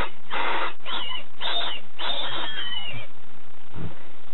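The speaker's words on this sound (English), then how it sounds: "a homemade fox caller which seems to work quite well" A homemade wooden fox caller with a reed of VHS tape is blown in four short, high, wavering squeals like a distressed rabbit, followed by a low thump.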